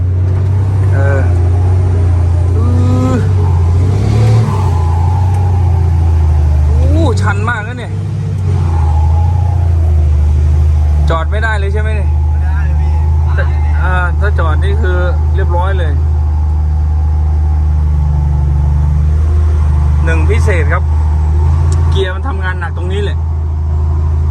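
A heavy truck engine drones and rumbles loudly as it labours up a steep dirt pit slope pulling a loaded trailer, its pitch rising and falling with the load, while people talk over it.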